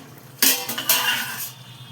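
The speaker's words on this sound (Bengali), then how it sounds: "এইবার এটা ঢাকাটাকে খুলছি" A metal lid lifted off a pot of simmering chicken stomach curry with potatoes, a sharp close clatter followed by a second clink and a brief rush of steam-like hiss, no voices.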